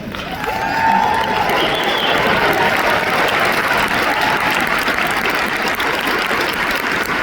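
Sustained applause from a standing audience at an inspirational talk, dense and steady from start to finish with a few cheers mixed in, loud and close.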